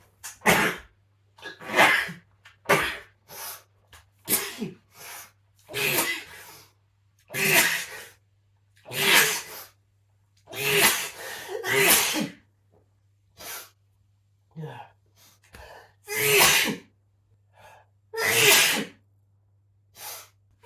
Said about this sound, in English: still sneezing helplessly